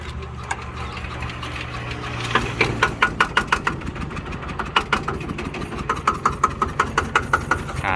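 A freshly rebuilt 110cc standard motorcycle engine cranks over and catches, then settles into a steady, rapid ticking idle, close by and fairly quiet, with no talk.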